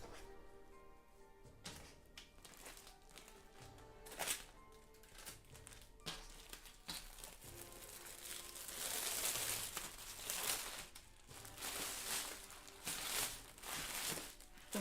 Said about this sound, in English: Open up my tablecloth.